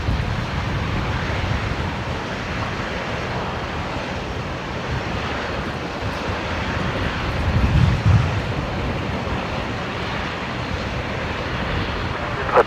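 A QantasLink Embraer airliner at Brisbane Airport, heard from a distance on the new runway 19 right as a steady, broad engine rumble under wind noise with a faint voice.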